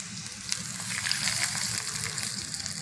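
Steady crackling sizzle of hot tempering with mustard seeds poured over bajra khichdi with asafoetida, continuous and close, with small pops scattered throughout.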